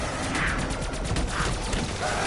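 Rapid gunfire bursts from a weapon in a Call of Duty Origins zombies game, firing in a dense, steady barrage that fills the whole moment with crackling shots.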